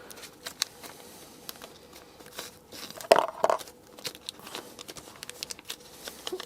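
Blade slicing through the plastic and cardboard packaging of a Knafs Lander and CJRB Caldera knife, a burst of crinkling and tearing around the middle amid scattered soft rustles and taps, close and fairly quiet.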